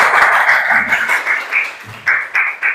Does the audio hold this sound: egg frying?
no